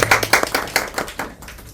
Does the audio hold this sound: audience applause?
yes